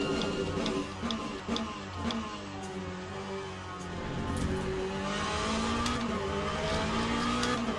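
A race car in Le Mans Ultimate at Fuji braking into the first corner: a loud engine note winds down through gear changes and then builds again, close and continuous.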